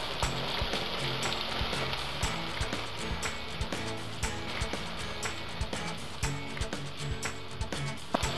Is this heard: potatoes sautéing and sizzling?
yes